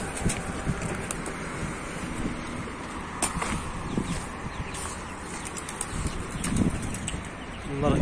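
A flock of pigeons just starting to fly flap their wings repeatedly in bursts, close by and outdoors over a steady background rumble, with occasional faint sounds in between.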